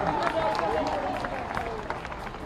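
A large crowd at a political rally in Jabalpur claps steadily while a voice carries over the applause throughout.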